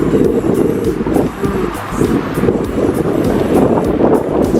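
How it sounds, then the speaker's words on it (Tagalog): Strong wind by the sea buffets the microphone continuously, a loud low rumbling roar with gusty swells throughout. "It's very mahangin. Sobrang hangin dito."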